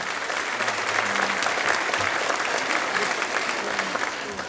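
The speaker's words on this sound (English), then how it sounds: "round of applause, please." Audience applause at a school spring band concert for 5th and 6th grade students, a steady sustained round of clapping from a full crowd, loud and continuous throughout.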